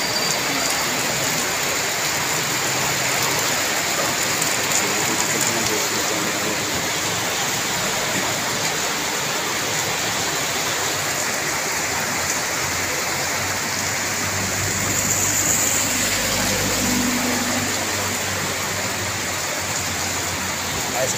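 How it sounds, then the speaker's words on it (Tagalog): Heavy downpour pours steadily in the open, a dense, loud rush of rain lasting throughout, with faint voices talking underneath at times. "Napakalakas ang ulan."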